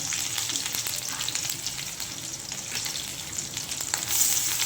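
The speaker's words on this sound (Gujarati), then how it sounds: "હવે બધા વેજીટેબલ ફ્રાય કરીએ આપણે. તો મસ્ત તેલ મૂકી દીધું." Chillies, onion and curry leaves fry in hot oil in a pan, giving a close, continuous crackling sizzle with occasional stirring and no talking.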